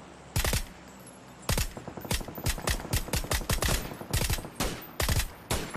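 AK rifle fire in a video game, with sharp cracks in quick bursts and rapid strings that echo off the surroundings. After an opening pair of shots and a pause, the bursts come steadily at moderate loudness.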